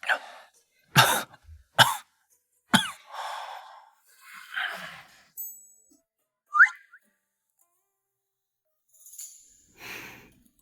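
A man who has fallen into water coughs in several sharp, harsh bursts close by, followed by ragged breaths and sighs in a quiet indoor period-drama scene.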